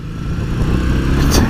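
A Triumph Bonneville T100 engine rumbling steadily while riding under trail braking into a corner, a close, continuous low drone with wind noise over it.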